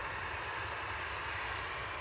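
A Ryanair airliner bound for Bologna roars steadily at Manchester Airport, a continuous, even jet engine drone with no talk.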